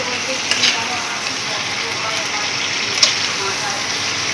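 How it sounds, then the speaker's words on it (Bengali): Chicken being slow-fried (kasha) in a pot on an induction cooker, a steady close sizzle with a couple of brief stirring clinks. "চিকেনটা যখন ইন্ডাকশানে রান্না করছি"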